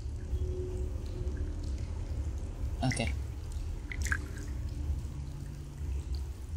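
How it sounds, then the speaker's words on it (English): Water drips in the Among the Sleep video game: a few sparse, soft drops over a steady low background hum, with one brief spoken word nearby. "Ah, pleasant water sounds."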